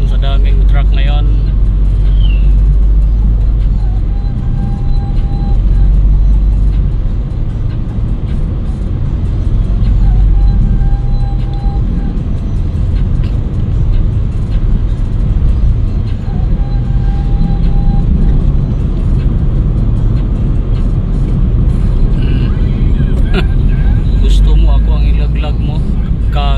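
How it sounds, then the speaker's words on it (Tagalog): Heavy truck traffic crawling along a road in Negros, a continuous low engine rumble with passing vehicle drones and occasional brake squeals, a person talking over the steady roar. "Ba't kaya nagkakaganyan na naman sa daming truck ngayon?"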